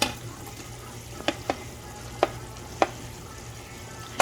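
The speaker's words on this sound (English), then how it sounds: "we're going to mix the onion and all of our other ingredients that we have in the pot already for about a minute" Onion cooks with other frijoles charros ingredients in a pot over a low steady sizzle, punctuated by several sharp utensil clacks against the pot as it is mixed.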